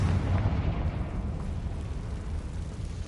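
A Confringo fire spell bursts in Hogwarts Legacy, a loud, dense explosive roar with a heavy low rumble that sustains at near-constant strength for about three seconds, no voices present.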